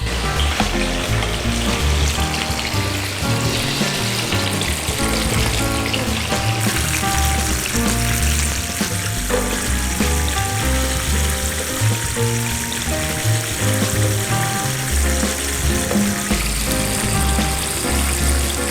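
Flour-coated chicken deep frying in hot oil, a dense, steady sizzle and crackle that holds loud and even throughout without any talking.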